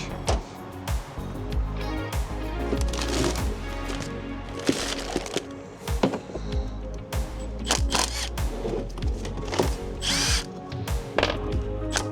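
A power tool tightens a cap while a pump is fitted on a Freightliner truck during mobile truck service, loud bursts of whirring and ratcheting repeating throughout, close up, with clanks between runs.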